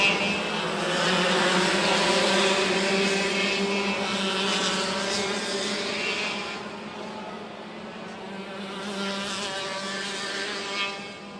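Racing karts at a Los Angeles kart club race, with engines whining at high pitch and a strong harmonic tone that rises and falls as they pass. The sound stays loud and continuous, with a dip where karts pull away before another approaches.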